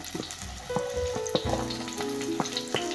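Ginger garlic paste and curry leaves frying in a hot pan for a Kerala-style fish curry, a close, steady sizzle with crackles and pops and occasional stirring clinks.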